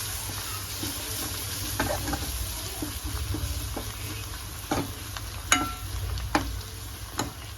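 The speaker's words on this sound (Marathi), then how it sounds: "आणि थोडंसं नमक आणि ह्याला थोडं भाजून घेऊ मसाल्याला" Spiced masala for mutton biryani, with a little salt added, roasts in a pan with a steady sizzle. Sharp scrapes of stirring cut through now and then, louder toward the end, and no one speaks.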